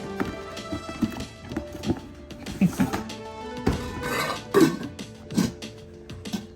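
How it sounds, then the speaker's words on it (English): A 10-inch HexClad fry pan is handled during unboxing, with scattered metallic knocks and clanks at irregular intervals against a quiet background. "Here is a 10-inch fry pan."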